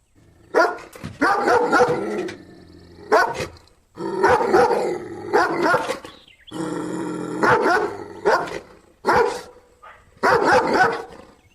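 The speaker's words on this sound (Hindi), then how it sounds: "जोर जोर से भौंकने लगता है" A dog barks loudly and repeatedly in long, insistent bursts separated by short pauses, close by.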